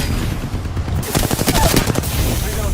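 Rapid automatic gunfire from the Apex Legends Mobile video game crackles loud and close in a dense burst through the second half, following a stretch of softer game noise.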